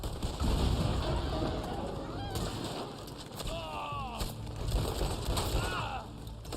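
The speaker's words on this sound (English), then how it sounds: "Bomb." A bomb blast in the online Western game Red Dead Online comes as sharp broadband bursts among scattered gunfire-like cracks, with chirping birds in the background.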